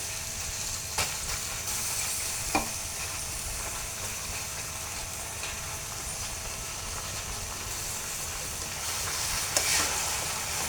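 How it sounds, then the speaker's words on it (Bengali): Grated raw green mango being stirred through sugar syrup in a pan makes a steady low sizzle and hiss, with a few faint scrapes standing out now and then. No voices. "আমটাকে আমি ভালো করে একদম লাড়া দিয়েছি।"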